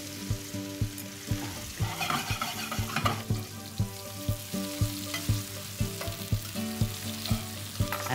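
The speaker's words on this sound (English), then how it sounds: "I'm gonna put the mushrooms right in here and saute the mushrooms" Mushrooms sautéing in a pan with bacon for a warm greens salad, a steady close sizzle broken by frequent scraping stirs and light utensil knocks, with a faint hum beneath and no talking.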